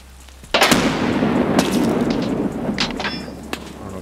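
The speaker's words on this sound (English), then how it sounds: "Grenade in." A grenade explodes in the shooter game Escape from Tarkov, a sudden loud blast followed by a long rumbling decay, with a few sharp pops after it.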